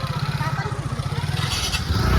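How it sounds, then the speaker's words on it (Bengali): A motorbike ride with a steady low engine drone running throughout, rising slightly toward the end, as voices talk over it. "আমরা বাইকে"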